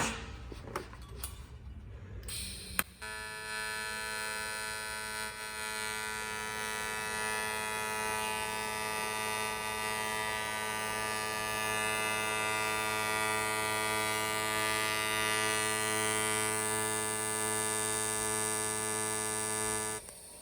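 A Miller Multimatic 220 multipurpose welder runs in pulse mode on an edge weld, a steady electric buzz with a strong tonal hum that sets in after a few seconds of faint crackle and holds for the rest.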